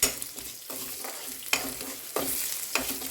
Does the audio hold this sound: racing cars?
no